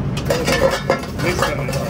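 Crispy corn being tossed with chaat powder in a bowl, with close clinks and scrapes of utensil on dish scattered through a steady background of restaurant hubbub at a barbeque buffet.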